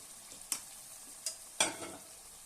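Country chicken curry being stirred in a pan, with three sharp scraping strokes of a spoon against the metal over a faint, quiet simmer.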